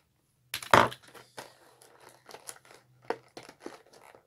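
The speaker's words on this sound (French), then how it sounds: "on va la déballer plutôt, parce qu'on peut pas construire une toupie sans l'avoir déballée" Plastic and cardboard packaging of a Beyblade Burst spinning top crinkles and tears in close, irregular bursts, starting with a sharp rustle and continuing in scattered crackles.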